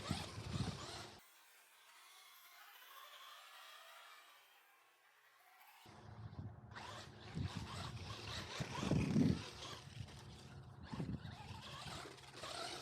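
ZD Racing DBX10 1/10 scale RC basher truck on a 2-cell battery running over dirt, its motor whine and tire crunch coming and going with a lull in the middle, then rising again with rough bumps and clatter.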